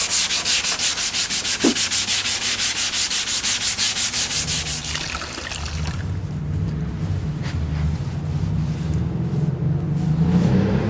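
Car headlight being wet-sanded by hand with sandpaper, a close rhythmic rasping scrub in quick strokes that shift to a softer, lower rubbing partway through.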